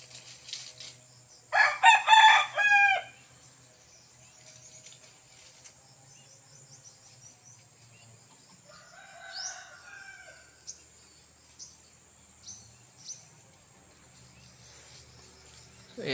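Roosters from gamefowl birds in training crow in a short loud burst near the start, then a fainter distant crow follows midway over quiet outdoor background.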